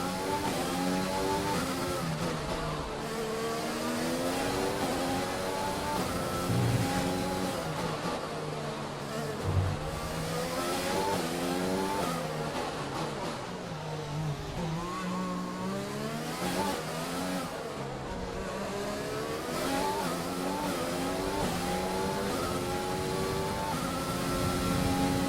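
F1 2020 race car engine in the video game, suffering engine problems, a continuous high-pitched whine rising and falling with revs and gear changes, steady and loud throughout without talk.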